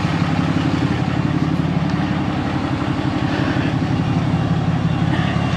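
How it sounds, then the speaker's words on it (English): A 1983 Porsche 928 S runs steadily up close, a dense loud engine roar with a continuous whine layered over it from the turbocharger, unchanging throughout. "you can just hear that turbocharger just screaming through there"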